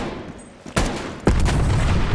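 Machine gun fire in the video game Call of Duty Cold War: a short, sharp burst followed moments later by a loud, sustained stream of rapid shots, close and forceful.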